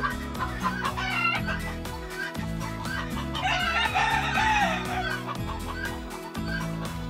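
A rooster crows in a loud, drawn-out call, with hens clucking and other fowl sounding around it in a close, busy coop, and no talk over it.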